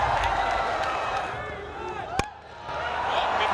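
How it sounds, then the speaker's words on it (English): Cheering crowd at a Big Cricket League cricket match, Northern Challengers against Southern Spartans, a continuous wash of roaring and applause that dips briefly midway, with one sharp clap-like crack standing out near the end. "Crowd cheering. What a reception."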